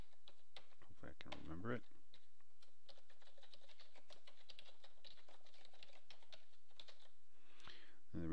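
A password is typed on a computer keyboard in quick, light, irregular clicks and taps that continue through most of the stretch, heard close and soft while someone speaks briefly over them.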